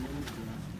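A racing pigeon held in a handler's hand gives a brief, low coo against a steady background hum at an outdoor pigeon-keeping session.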